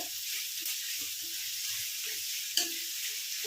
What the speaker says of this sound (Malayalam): സവാള ഒന്ന് വഴന്ന് വരട്ടെ